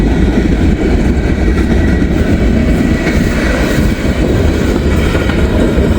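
A short freight train of grain cars and drywall loads rolls steadily past on its way to Detroit, Michigan, a loud continuous rumble with clickety-clack of wheels over the rails, close by and without any talk.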